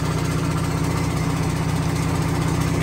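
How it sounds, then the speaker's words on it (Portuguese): An old diesel engine powering a sugarcane mill at a rapadura mill in Uiraúna, Paraíba, runs with a loud, steady, even drone and no voices. "Bem antigo, mas funciona bonito aqui o motor, viu?"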